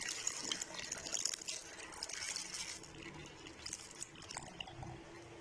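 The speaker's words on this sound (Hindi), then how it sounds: "तो 2 कप जो है वो दूध डालेंगे।" Milk poured into a blended apple dessert mixture gives a steady, moderately close liquid pouring and splashing sound that runs throughout, with no talking.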